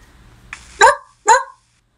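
A corgi in an AR video game gives two short, sharp barks close by, the second following about half a second after the first, then quiet.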